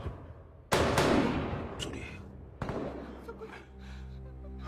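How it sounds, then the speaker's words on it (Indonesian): A sudden explosion bursts out sharply, followed by a decaying rumble and a second, smaller blast a couple of seconds later, with faint indistinct voices and background noise in a tense film scene. "tiba-tiba terdengar sebuah ledakan"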